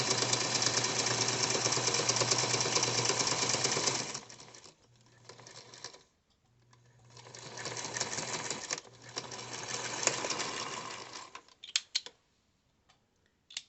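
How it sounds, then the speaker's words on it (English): A sewing machine stitches down one pressed side of a fabric crossbody purse, running in two long steady bursts with a pause between, then a few short clicks at the end. "I press this under 1/4 of an inch, and I'm stitching down that side only."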